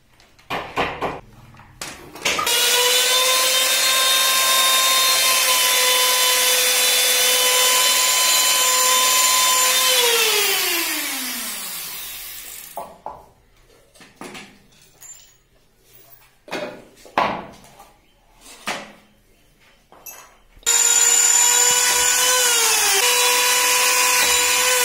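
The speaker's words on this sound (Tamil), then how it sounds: "ட்ரில் மிஷின் வச்சு இந்த ரவுண்டை சுற்றி டாட் டாட்டாக போடணும்." A power drill whines steadily for about ten seconds boring holes in a wooden speaker board for a Maruti 800 boot and winds down, followed by scattered knocks and taps, then the drill spins up again.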